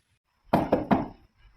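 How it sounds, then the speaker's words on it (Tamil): Three quick knocks rap on a door at close range, evenly spaced and fairly loud, in a quiet home, followed by faint rustling. "பரிமலாக்கா தான் கதவை தட்டுறாங்களாக்குன்னு நினைச்சேன்"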